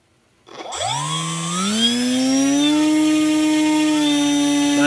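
A Turnigy AeroDrive brushless motor spinning an 8 by 6 inch propeller starts up after a brief silence, its whine rising in pitch and settling into a loud, steady, close tonal hum with a rushing airflow.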